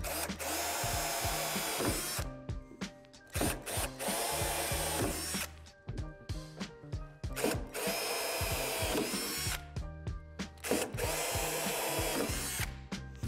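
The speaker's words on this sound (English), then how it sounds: "drill them out with the provided drill bit" A power drill whines in repeated bursts, grinding through the metal of a storage shed, with brief pauses and small clicks between each run.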